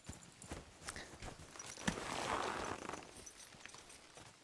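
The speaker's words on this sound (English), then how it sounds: "Okay, get on your horse." Horse hooves clip-clop at a walking pace in Kingdom Come Deliverance 2, a soft, irregular series of hoofbeats with a rustling swell of movement in the middle and no talking.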